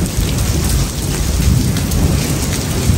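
Heavy rain pours down loudly and continuously, with deep thunder rumbling beneath the downpour.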